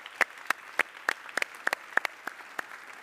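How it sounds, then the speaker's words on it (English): A sparse audience claps in a thin patter of about a dozen separate, crisp hand claps spread over three seconds, fairly quiet and with no voices. "Can we give Lance and Tracy and Helena a round of applause?"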